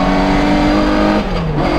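A classic Mini Cooper S 1300 Mk1 races around the Mas du Clos circuit, its engine howling loud and close in a brief burst, the tone dropping slightly as it comes off the throttle.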